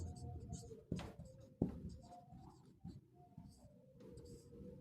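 Pen strokes scratching on paper as numbers are written out while solving a reasoning question, close and intermittent with a couple of sharp taps, over a low background hum.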